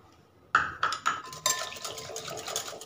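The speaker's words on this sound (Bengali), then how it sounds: "তেলটাকে খুব ভালো করে এর সাথে মিশিয়ে নিচ্ছি।" A spoon clinks a few times against a bowl, then stirs with a soft scrape and rustle as sunflower oil is worked into a sour yogurt and milk batter for a strawberry cake.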